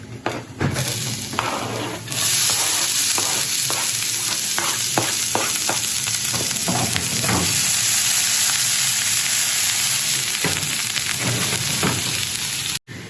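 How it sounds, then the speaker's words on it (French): Chopped onions and garlic cloves sizzle loudly in oil in a pot for a menestrón soup, with a steady frying hiss broken by repeated scraping stirs and no talking. "je vais ajouter les oignons et les gousses d'ail dans la casserole"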